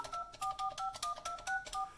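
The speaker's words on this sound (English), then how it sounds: "The phone will wait a few seconds to see if I'm done dialing" A Yealink T54W desk phone plays dialing tones as numbers are entered, giving a run of about nine short dual-pitch beeps in uneven rhythm. They are faint, close and heard over light background noise.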